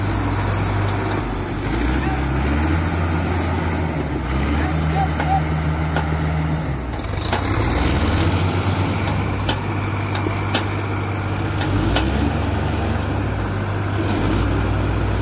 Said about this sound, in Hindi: सोनालिका ने खेल दिया है अर्जुन, और ये बड़ा ट्रैक्टर है अर्जुन सोनालिका से